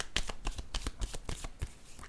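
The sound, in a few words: shuffling and drawing oracle cards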